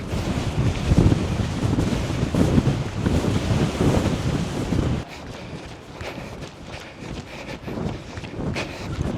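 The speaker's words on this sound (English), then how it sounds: "Hopefully you can hear me because the wind is a bit crazy" Strong wind buffets the microphone while running along a beach at the end of summer, a loud continuous roar with gusts that eases somewhat halfway through, with faint surf-like noise beneath.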